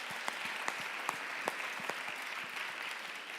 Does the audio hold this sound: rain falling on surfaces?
no